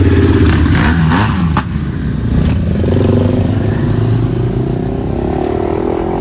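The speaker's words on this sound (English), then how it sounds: "Here come a bunch of more motorcycles." Group of motorcycles roaring past on a Los Angeles street, loud and close, engines revving and overlapping in a continuous rolling stream of exhaust noise.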